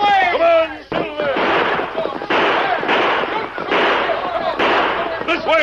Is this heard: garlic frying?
no